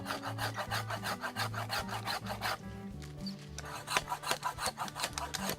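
A handsaw cuts through a mangrove branch during pruning, rasping in quick, regular back-and-forth strokes close to the microphone. The strokes pause briefly partway through and then resume at the same steady rhythm.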